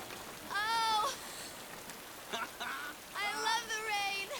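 Heavy rain pours down in a steady, hissing wash, with two loud drawn-out vocal shouts rising above it.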